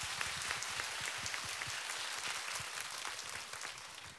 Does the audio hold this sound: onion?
no